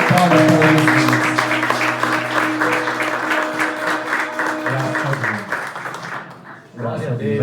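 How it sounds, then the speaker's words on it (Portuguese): A church congregation claps loudly to welcome a pastor at an anniversary service, with sustained keyboard or organ tones sounding beneath the applause before it fades and briefly picks up again. "o pastor Wilson, com forte salve de palmas para ele."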